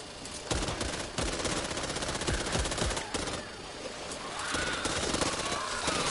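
Rapid video game gunfire on PS4, dense bursts of automatic shots and sharp cracks crowding together over a busy, loud battle soundscape with no speech.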